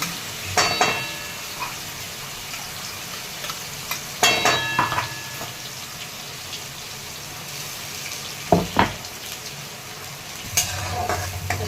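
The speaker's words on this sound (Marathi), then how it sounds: "हिरवी मिरची छान परतून घ्यायची" Green chillies fry in a pan for a potato fasting dish, with a low steady sizzle broken by a few sharp stirring clatters and scrapes, close and moderately loud, with no talking.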